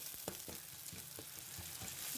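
Coal-style dry frying with a little ground spice powder, a soft continuous sizzle with scattered small crackles and stirring scrapes, steady and fairly faint with no talking.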